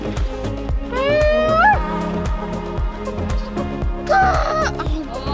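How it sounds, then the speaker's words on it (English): Two harsh, rising squawks from a crow cut through rhythmic thumping music near Uluru, Australia, one early and another a few seconds later. "that sounds like a crow getting his tail stepped on"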